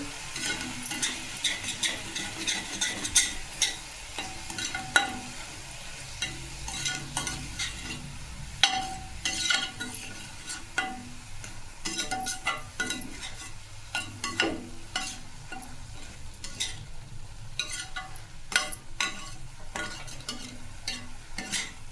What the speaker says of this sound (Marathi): चवीपुरतं मीठ घातलं आहे मिक्स करून घ्यायचं आहे चांगलं